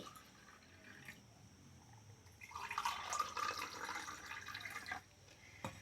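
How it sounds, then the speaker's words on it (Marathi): Water splashes and trickles into two glasses for a few seconds in a quiet room, rising in the middle and then tapering off. "त्या 2 ग्लासामध्ये मी पाणी ओतते"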